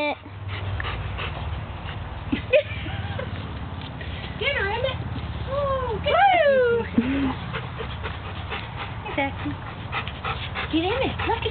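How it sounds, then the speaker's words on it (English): Puppy whimpering and panting while playing, with high rising whines and yips scattered over breathy panting, close by, as a person talks throughout. "Look at the puppy."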